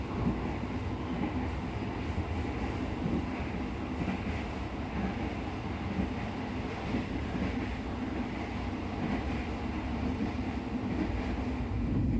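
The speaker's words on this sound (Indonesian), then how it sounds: "ada kereta barang melewat" A freight train passes by while heard from aboard a moving passenger train, a steady, dense rumble of rolling wheels and carriages that stays at a constant level throughout.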